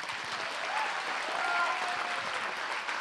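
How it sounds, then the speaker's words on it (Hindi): Applause from an audience honoring stuntmen at an insurance policy launch event, a dense wash of clapping held steadily throughout, fairly distant and filling the room. "मैं चाहूंगा कि जोरदार इनके लिए तालियां बजाए।"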